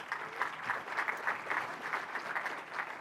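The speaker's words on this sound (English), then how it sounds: "So another big round of applause for being back." A crowd at the Petoskey Chamber State of the Community event gives a sustained round of applause, even, dense clapping running throughout with no voices over it.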